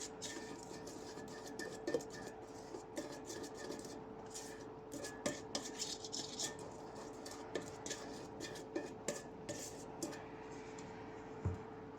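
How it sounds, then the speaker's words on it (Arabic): Chocolate cake batter with starch being stirred in a bowl, a steady run of soft scraping and light clinks of utensil against the dish, close and continuous without talk. "وكنخلطوا الخليط ديالنا جيدا."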